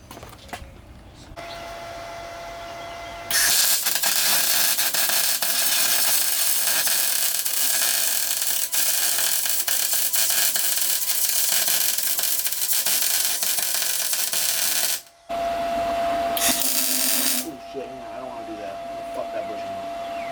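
Welding on truck suspension brackets during a 4-link and Panhard bar install on a Ford F100: a long, steady harsh buzzing hiss, then a short pause and a second brief burst.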